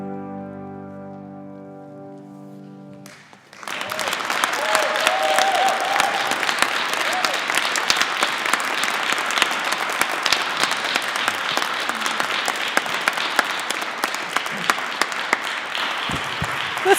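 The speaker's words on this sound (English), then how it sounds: "Let's keep the applause up for these amazing people up here." A congregation at a Sunday church service bursts into loud, sustained applause after a few seconds of quiet music, the clapping dense and even and continuing steadily to the end.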